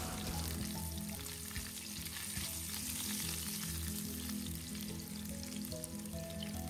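Dried anchovies frying in oil in a pan for nasi lemak sambal, a dense, even crackling sizzle that holds steady throughout with no talk.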